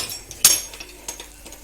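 Grated coconut is stirred and roasted in a pan, with one sharp metallic clink of the spoon against the pan followed by a few softer taps and scrapes in quick succession.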